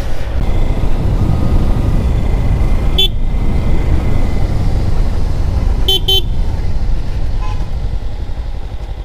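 Car traffic on a hill road near Ooty, a steady near engine and tyre rumble running throughout, with a couple of short horn toots breaking through partway along.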